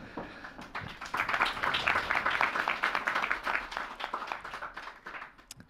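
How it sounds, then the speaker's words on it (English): A meetup audience claps for the event organizers, a dense burst of many hands that swells quickly, holds for a few seconds and then gradually thins out. "if you would like to give them a round of applause"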